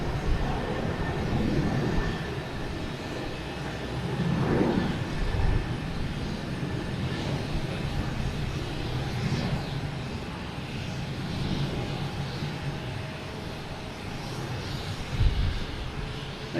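Delta Airbus A321 airliner arriving from Atlanta at Boston Logan Airport, heard from a distance as a steady, broad jet engine roar that swells slightly and holds throughout, with no talk.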